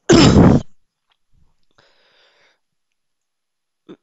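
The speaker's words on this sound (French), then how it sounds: "excusez-moi, je vais tousser" A single loud, harsh cough bursts out right at the start, followed by near silence with a faint brief click or throat sound near the end.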